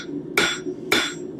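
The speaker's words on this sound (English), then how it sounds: "I hit the back of the handle of this hammer on the horn again" A blacksmith's forging hammer, its handle knocking against the anvil horn, gives two sharp, close metallic strikes about half a second apart, each ringing briefly before it fades, with no talk around them.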